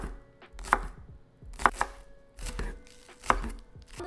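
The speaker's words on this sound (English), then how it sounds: "I'm cutting these in half inch pieces because I'm gonna make mashed potatoes." Potatoes being chopped into half-inch pieces on a cutting board, with a knife striking in sharp, close, irregular thumps, several chops over a few seconds and no talking.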